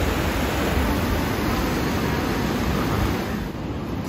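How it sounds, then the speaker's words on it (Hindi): Steady rush of icy water flowing beside a natural hot spring in the Himalayan Parvati Valley, a dense, unbroken broadband roar close by with no voices, easing slightly near the end. "और यहाँ जा रहा है एकदम बर्फीला पानी"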